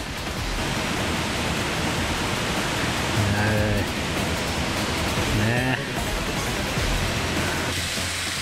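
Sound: waterfall on a mountain stream

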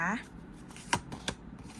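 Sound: tarot cards being handled and drawn

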